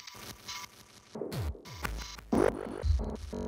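Choppy electronic drum hits stutter and glitch, with pitch-swept blips, sudden dropouts and punchy low kicks in an uneven rhythm.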